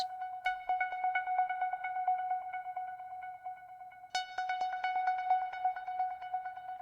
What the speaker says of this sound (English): With the delay, it sounds like this.